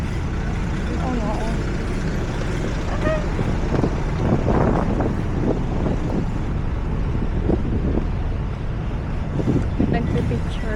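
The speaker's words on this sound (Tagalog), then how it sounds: "Ang init ng simoy ng hangin." Warm breeze buffeting a phone microphone outdoors at Eastwood, a steady low rumble of wind noise with faint people talking and city bustle underneath.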